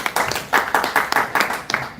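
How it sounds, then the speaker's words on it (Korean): A small group clapping during a church worship service, loud sharp claps in a quick, somewhat uneven rhythm close by, with a faint voice under them. "우리 박수 한번 주시기 바랍니다."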